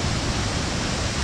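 Bhangge waterfall in Rasuwa, a dense, steady roar of falling water, loud and unbroken throughout the short stretch, with no voices.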